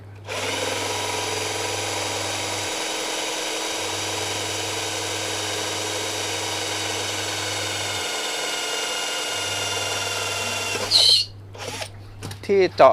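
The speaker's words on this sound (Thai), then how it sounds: "ตัวนี้เจาะเลยนะครับผมเจาะแค่รูเดียวนะครับ" A power drill whirs steadily and loudly for several seconds, spinning through a single drainage hole in a plant pot, then stops with a few brief clunks.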